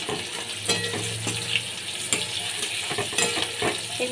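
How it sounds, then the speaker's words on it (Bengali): Chopped onion frying in hot oil with black cumin seeds, a steady close sizzle with occasional stirring clinks and scrapes of the spoon against the pan. "একটা পেঁয়াজ কুচি দিয়ে দিচ্ছি।"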